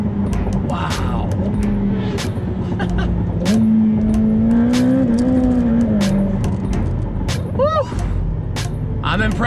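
2020 Ferrari F8 Tributo mid-engine supercar accelerating hard at full throttle, its engine note rising steadily and loud throughout, with a voice speaking over it briefly.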